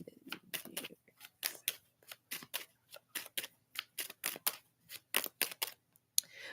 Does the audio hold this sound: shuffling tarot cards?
yes